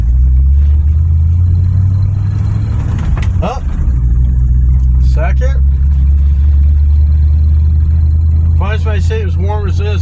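A cold truck engine with a column-shift gearbox rumbles steadily at idle, loud and close, while someone talks over it and clunks through the gears.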